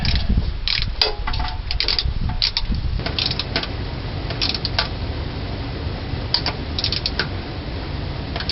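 A ratchet wrench tightens bolts on a Ford 400 engine in a 1978 Continental Mark V during timing chain work, giving repeated quick clicking bursts at close range, with some louder clatter early on.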